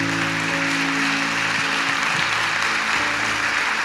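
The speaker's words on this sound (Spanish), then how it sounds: "Le damos un aplauso al Señor por eso." A church congregation applauds in a steady, dense wash of clapping that fills the whole stretch, with a low sustained tone humming faintly underneath.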